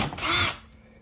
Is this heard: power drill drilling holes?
yes